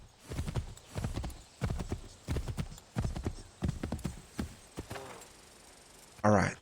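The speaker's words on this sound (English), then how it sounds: "Now we have the option to also call a horse of our own." A horse in Assassin's Creed III gallops with steady, rhythmic clip-clop hoofbeats close by, then lets out a brief whinny at the end.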